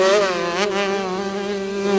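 An 80cc motocross motorcycle races around a track at a 2003 Brazilian championship round in Caldas Novas, its engine a steady, buzzing high-revving whine held throughout at moderate distance.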